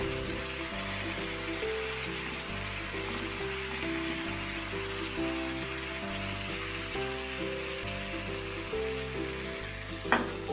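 A chapathi-roll filling seasoned with salt and pepper sautés in a pan, giving a steady, soft sizzle and crackle with a faint low rhythmic pulsing beneath and a brief clatter near the end.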